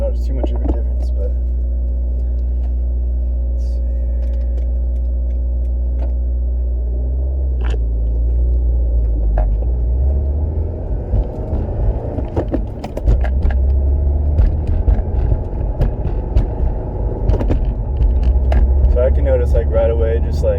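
A 2015+ Subaru WRX fitted with a FactionFab shift stopper drives along, its engine a steady loud low rumble and drone that shifts in pitch partway through, with faint interior knocks over it.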